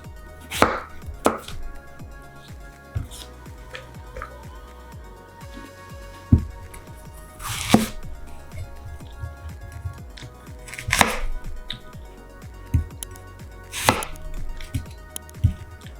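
A knife chops through apple slices on a cutting board for a traditional Polish szarlotka apple pie, making sharp, irregular thuds with pauses between bursts. The chopping is close and clear, and no one speaks.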